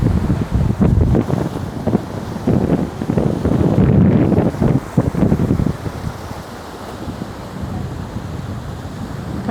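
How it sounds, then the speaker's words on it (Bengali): Big waves crash against large rocks at Mirissa Beach, Sri Lanka, in a loud, rolling roar with heavy wind buffeting the microphone; the surge swells over the first half, then eases into a steadier wash. "বড় বড় পাথর থেকে দেখেন, ঢেউ এসে পাথর বাড়ি খায়"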